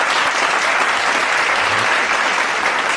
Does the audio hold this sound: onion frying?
no